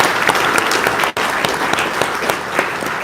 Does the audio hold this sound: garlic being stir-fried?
no